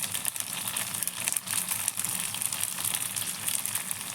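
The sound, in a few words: puri deep-frying in hot oil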